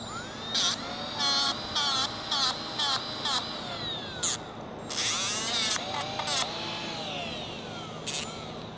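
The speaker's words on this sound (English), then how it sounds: "I really, really do not like that I have to grind these down." A power grinder works down brake pads from a Ford Super Duty truck in a string of short, loud whirring bursts with brief pauses, followed by a longer grind and a few more quick bursts.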